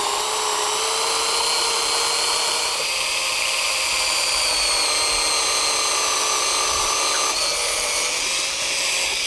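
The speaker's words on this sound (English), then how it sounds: "We want to drill that hole at an angle underneath the lawn." A steady, high-pitched mechanical whine of a drill boring a hole at an angle into the ground beneath a lawn runs continuously without pause, loud and close.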